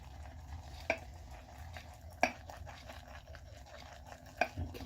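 A shaving brush whips soap lather in a mug, making quiet wet swishing and brushing with a few sharper strokes spaced a second or so apart, close by and soft.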